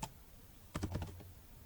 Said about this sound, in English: So we can type